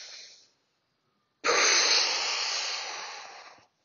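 Heavy breathing during a bench press: a short exhale, a pause, then a long forceful hissing breath blown out through the mouth, close to the microphone.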